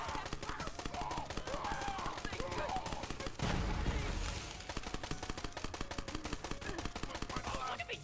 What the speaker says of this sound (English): Let's use our new assault rifle